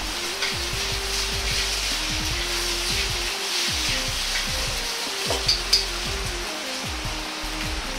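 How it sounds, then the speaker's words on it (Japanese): Pork and oil stir-frying in a frying pan over medium heat, giving a steady, close sizzle with crackling bursts and spatula scrapes throughout, no talking. "フライパンでは油と肉を入れてから火をつけて炒めていきます"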